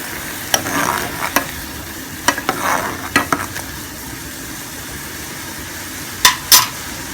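Turmeric, ginger and black pepper simmering on low flame in a pan, a soft steady sizzle with several sharp metal spoon clinks and stirring scrapes scattered throughout, close by.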